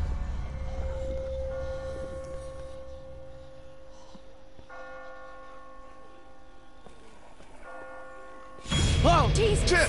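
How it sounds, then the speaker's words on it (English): Bell-like tones ring out in a scene from The Walking Dead video game by Telltale Games, sustained sounds layered over a low rumbling background, ending with a sudden loud burst. "I just got spooked by those bells"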